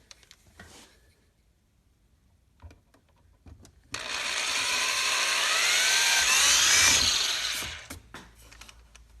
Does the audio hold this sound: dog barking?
no